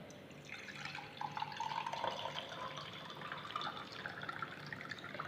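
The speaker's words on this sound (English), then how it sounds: "Now then comes the second solution, in which I will be again pouring the water." Water poured into a container during a classroom-style demonstration of a solution, a steady faint trickle and splash lasting several seconds with no talking.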